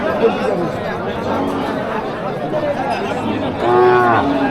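Cows low at a village cattle market in Ambari, Dinajpur, with one long moo rising near the end above a busy murmur of crowd chatter and voices throughout.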